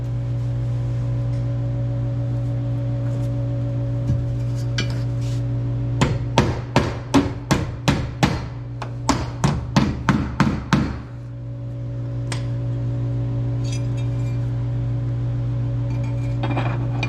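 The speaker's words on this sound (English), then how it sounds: "I'm gonna go ahead and grab a hammer and tap those flat" A hammer taps drain plug tabs flat on a Jeep Cherokee XJ, a run of about a dozen sharp metallic strikes in uneven rhythm, close and loud over a steady low hum.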